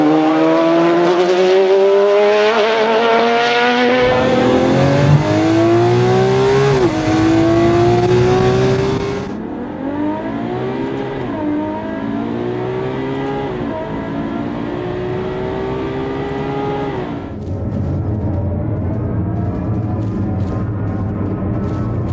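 Gladius spaceship engine in Star Citizen, a gritty, tonal combustion-like roar that revs up and down in sweeping pitch changes, loud and close, with abrupt shifts in character over about twenty seconds.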